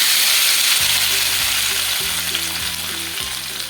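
Tomatoes poured into hot mustard oil for a green tomato bharta: a loud, close, hissing sizzle that eases slightly over time, with a low droning mechanical hum stepping in and out underneath.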